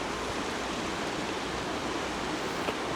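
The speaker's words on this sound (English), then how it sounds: "A little waterfall over there on the left." A small waterfall in the forest at Capilano Suspension Bridge Park gives a steady broadband rush of falling water, even and unbroken throughout with no voices.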